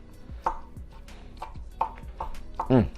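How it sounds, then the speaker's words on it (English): Knife chopping cooked beef for burritos on a cutting board, a series of uneven sharp thuds at an irregular rhythm, close and clear, with quiet background noise. "just chopping it up"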